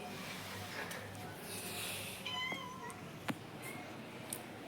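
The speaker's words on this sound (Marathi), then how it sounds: "इकडे मांजर आलेली" A cat at a house meows faintly a couple of times, short and fairly close, over quiet background noise.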